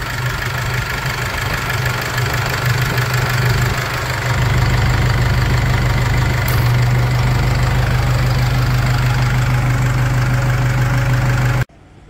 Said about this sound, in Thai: ติดเครื่องนะครับ